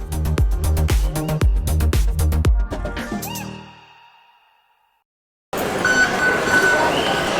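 A train at VivoCity Harbourfront station in Singapore, loud and rhythmic with rumbling, clattering bursts for about three seconds before fading to silence, then a broad station ambience returns.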